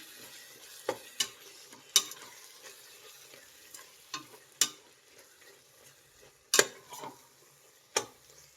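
A spoon stirs coriander powder and garam masala into tomato pulao masala in a pan, scraping and tapping in sharp, irregular clicks over a soft, steady sizzle of frying.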